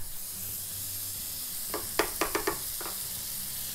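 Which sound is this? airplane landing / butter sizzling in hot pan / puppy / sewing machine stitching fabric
butter sizzling in hot pan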